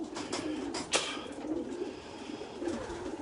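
Racing pigeons at a loft give low, soft cooing that runs steadily through the whole stretch, with one brief louder rustle partway in.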